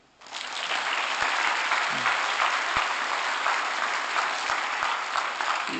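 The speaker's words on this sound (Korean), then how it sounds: "이게 좋은 말 같으면 박수 치세요." Audience applause during a lecture at a court officials' training institute, starting abruptly and holding as a dense, even wash of clapping with a few louder nearby claps.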